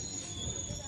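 A train of the Chetak Express coming to a stop, with a steady rumble of rolling wheels and a thin high brake squeal running throughout, heard from inside a coach.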